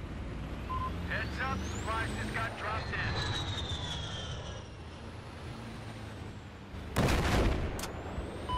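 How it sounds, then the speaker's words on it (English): Gunship aircraft passing overhead in a video game battle, a steady engine roar under background noise with a louder burst near the end, mixed with game effects and faint voices. "Gunships above."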